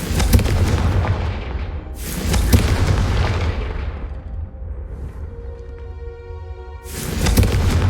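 Repeated Confringo spell blasts in Hogwarts Legacy, two heavy booming explosions with rumbling decay, separated by a quieter stretch holding a sustained tonal hum, then another blast at the end.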